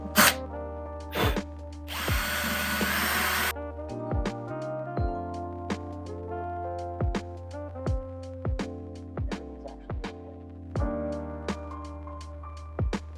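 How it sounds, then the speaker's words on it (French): A power drill with a 5 mm bit pre-drills holes in a van ceiling: a loud, sustained whirring burst followed by many short, rhythmic drill spurts and trigger pulses close by, with no talking. "Avec un foret de 5, je viens pré-percer mes trous."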